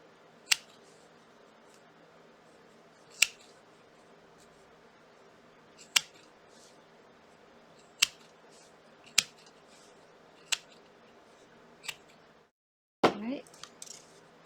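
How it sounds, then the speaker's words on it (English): Small nippy scissors snip through fabric while finishing a needlepoint pin cushion on a wood base, giving sharp, crisp clicks spaced a second or two apart over a quiet background, then a short scrape and rustle at the end. "time for the nippy scissors."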